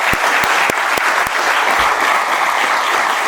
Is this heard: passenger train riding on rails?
no